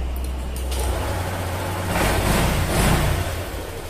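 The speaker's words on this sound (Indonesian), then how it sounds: "Dan motor bisa dihidupkan, teman-teman." A Honda Vario 125/150 scooter engine idles close by with a steady low hum that swells slightly near the end.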